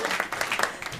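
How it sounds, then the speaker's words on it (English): A brief burst of audience applause, a dense patter of many hands clapping at once, moderately loud and steady. "Don't clap because Jess asked you to clap."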